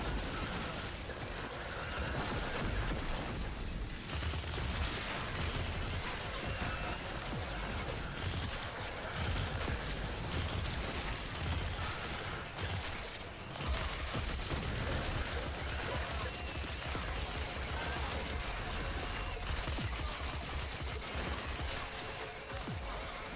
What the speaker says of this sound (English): why am I hearing 3 sets of gunshots?